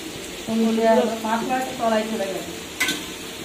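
Five-spice seeds and turmeric powder frying in a kadai for a home meal, a close sizzle with stirring scrapes while a voice talks over it.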